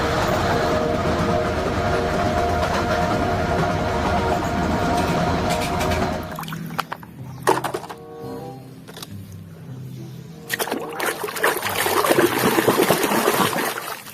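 Toy high-speed train with a steady rushing rail-like rumble for about six seconds, then it cuts off into quieter clicks and scattered knocks, and a noisy rushing sound returns near the end.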